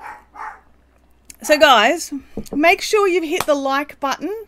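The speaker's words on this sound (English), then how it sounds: "Sorry about the barking, guys." A dog lets out two short barks at the start during a live crafting and chat stream, then someone talks over the rest of the clip with no more clear barking.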